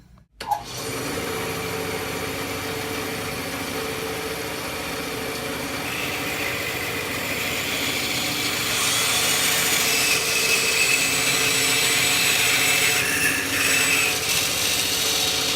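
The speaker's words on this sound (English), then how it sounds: "Now to the bandsaw." A bandsaw runs steadily after a short start-up thump, its whine holding for the full stretch and growing a little louder and rougher as the blade cuts, with no talk.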